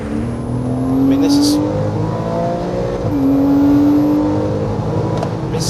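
A Porsche 911 engine revs hard at full throttle, a loud rising howl that climbs twice in two long sweeps, with a brief dip between them.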